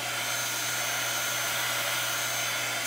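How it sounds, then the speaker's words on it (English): Handheld dryer blowing on craft paper sprayed with Tim Holtz mica stains, a steady close whirring roar with a constant hum, unbroken for the whole few seconds. "now let's go ahead and start drying this"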